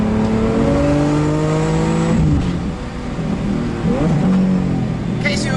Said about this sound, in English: each one of those bangs you hear, those are fireballs going off out of the exhaust system